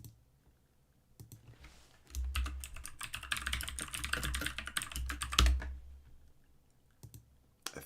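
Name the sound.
typing on a computer keyboard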